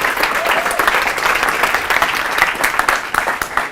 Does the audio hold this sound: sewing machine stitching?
no